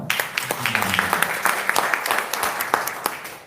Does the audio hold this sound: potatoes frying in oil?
no